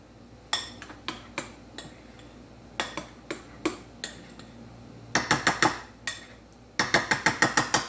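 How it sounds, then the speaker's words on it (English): A spoon or whisk stirring a tiramisu mixture in a bowl, with sharp clinks against the bowl's side coming in uneven clusters, then quicker repeated rattling strokes, close and clear with no talking. "So I'm going to stir this in here."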